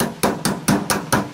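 Five sharp hammer taps at an even, steady pace strike a folded sheet-metal flashing seam at a foundation plinth, each blow close and ringing, with no talk.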